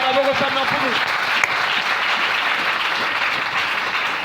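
Church congregation applauding and acclaiming the Lord, a dense steady wash of clapping that follows a brief stretch of voices and carries on loudly throughout.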